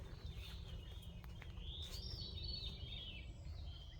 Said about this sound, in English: But do you guys hear these birds?